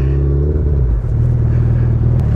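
A motorbike stuck deep in mud revs hard with a loud, steady low engine roar that holds throughout, close by and with no speech over it.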